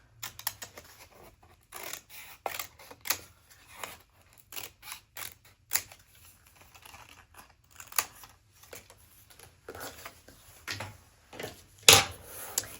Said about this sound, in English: I'm gonna cut this out to a semi-rectangle.